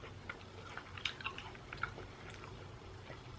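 Soft, close crunching of a snack being chewed, irregular bites and crackles at a low volume with no talking.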